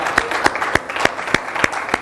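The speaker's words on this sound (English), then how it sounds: "We can clap for that." Audience applause breaks out at a talk, heard as a run of about seven sharp, evenly spaced claps at a steady rhythm, fairly close and moderately loud over a light room murmur.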